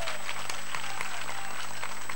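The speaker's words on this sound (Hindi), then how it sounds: "सुमित दादा के लिए एक हाथ उठाकर जोरदार तालियां हो जाएंगे तो मैं समझूंगा" A crowd at an outdoor Dahi Handi festival for Janmashtami claps loudly for a local leader, a dense, steady roar of applause with rhythmic claps and a constant hum beneath, heavily distorted.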